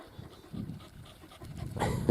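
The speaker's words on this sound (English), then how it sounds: "Good dogs." Dogs panting close by after a run, including a short-legged dog, with quick breathy huffs that grow louder toward the end over a brief stretch of outdoor background.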